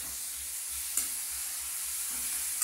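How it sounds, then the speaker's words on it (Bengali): Onion and garlic frying in a pan for a cauliflower dish, giving a steady close sizzle with faint stirring scrapes and a couple of brief clicks, no voices. "কথা বলতে বলতে আমার পেঁয়াজ রসুনটা দেখো বেশ সুন্দর লাল লাল করে ভাজা হচ্ছে।"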